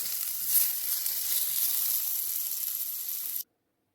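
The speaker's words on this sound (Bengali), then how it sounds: "একটু লাল লাল করে ভেজে নেব" Potatoes frying in oil in a pan, a steady close hiss of sizzling that holds evenly for about three seconds and then cuts off abruptly.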